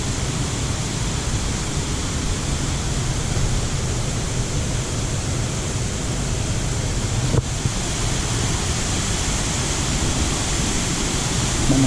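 Roaring water of the Salto del Capiobí waterfall in Misiones, Argentina, a loud, steady, unbroken rush that fills the whole stretch with no voices over it.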